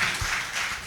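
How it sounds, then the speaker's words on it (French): Brief, fairly loud audience applause at a literary gathering, a dense wash of clapping filling under a second with no talk. "Finalement, oui, on peut applaudir."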